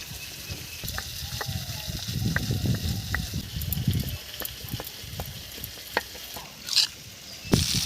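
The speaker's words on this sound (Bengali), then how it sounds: "পেঁয়াজটা ভাজা হয়ে গেছে" Onions frying in a pan give a moderate sizzle with stirring scrapes and spoon taps, fading toward the end, where a few brighter clinks and hisses stand out.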